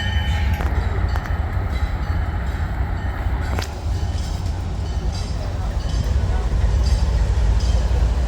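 A Green Bay Western Alco diesel locomotive pulls away with a caboose train at a railway museum diesel event, its heavy low engine rumble steady and loud, with a brief whistle-like tone early on.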